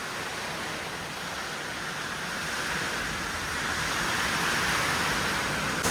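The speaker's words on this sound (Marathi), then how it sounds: "खूप भयंकर असा पाऊस आलाय." A torrential downpour hisses on in a constant wash of noise, with wind gusting through it, building slightly toward the end; no one speaks.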